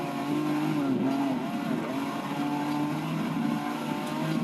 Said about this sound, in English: Over the rumble strip.